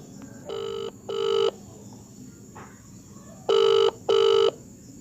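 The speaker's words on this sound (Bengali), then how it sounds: "তখনই ফোনে রিং বেজে ওঠে।" A telephone rings in two pairs of short electronic bursts, separated by a pause, clear and close against a quiet background.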